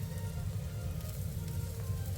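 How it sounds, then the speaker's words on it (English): Cowboy steak sizzles on the grate of a Chargriller Gravity 980 gravity-fed charcoal smoker on a cold day, giving a steady close crackling hiss with no talking. "So you can hear that sizzle."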